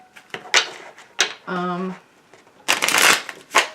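Tarot cards riffled and snapped during a reading, crisp bursts of shuffling close by, with someone speaking between the bursts.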